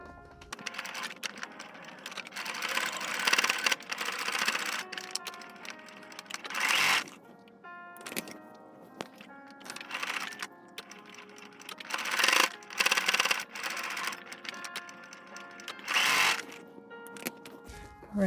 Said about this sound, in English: we're gonna sew on a 1/4 inch straight here, 1/4 inch straight on this side